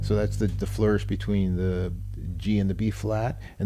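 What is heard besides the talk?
No distinct noise like a dog, phone or traffic.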